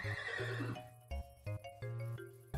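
A horse neighs in the modded Minecraft pack Hexxit, a high whinny at the start followed by short clip-clop and thumping game sounds, quiet and dry over a background of looping game music.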